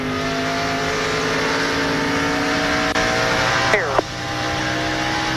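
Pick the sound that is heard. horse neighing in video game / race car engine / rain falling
race car engine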